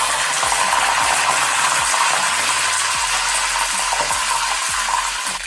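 Curry leaves fry in hot sunflower oil in a kadai, giving a loud, steady crackling sizzle with faint stirring scrapes throughout and no voices.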